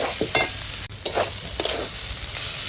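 Fresh coriander leaves are stirred into a sizzling loitta fish curry, giving a close, steady fry sizzle with a few bursts of scraping and clatter from the spoon. No voices are present.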